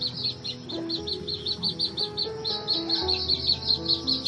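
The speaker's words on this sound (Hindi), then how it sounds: "स्वाभाविक चिड़ियों का चहचकाना" Birds chirp in rapid repeated bursts at Bichua Kunda, a natural spot near Govardhan, their calls steady and fairly close over a background of low murmur and hum.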